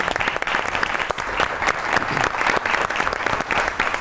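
A studio audience on a comedy talk show applauds, a thick continuous wash of many hands clapping at once, loud and steady throughout with no talking over it.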